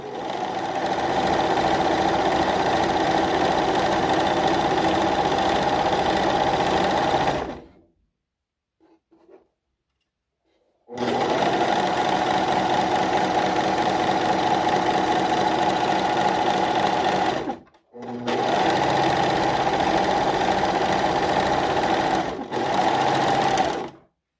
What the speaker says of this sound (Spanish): Y así es como vamos a ir cosiendo todo el borde.